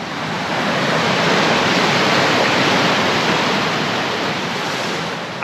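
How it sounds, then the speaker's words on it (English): Water flowing in a stream through a wooded valley beside a granite picnic table, a steady, loud rushing wash of broadband noise that stays constant throughout with no voices. "The water's flowing."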